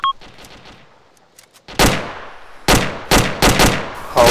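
Gunfire in a multiplayer military video game session: after a quiet start with faint distant pops, several loud, sharp shots crack close by in irregular bursts, each with a short decaying tail.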